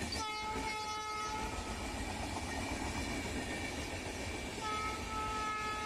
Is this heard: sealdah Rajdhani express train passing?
yes